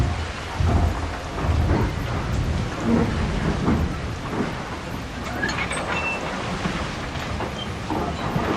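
Rain falls steadily on a misty island with rumbling thunder underneath, a continuous hiss heard alone with no talk.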